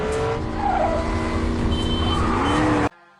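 Film car chase with a car engine roaring loud and close and tires squealing over it, building to a steady rising whine before cutting off abruptly near the end.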